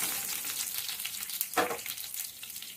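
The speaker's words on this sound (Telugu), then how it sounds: "ఇవి కొంచెం ఆవాలు పేలుతున్న సౌండ్ వచ్చేంత వరకు ఫ్రై చేసుకోండి." Chana dal, urad dal and mustard seeds fry in hot oil for a tempering, giving a steady close sizzle with a louder burst of crackling pops partway through.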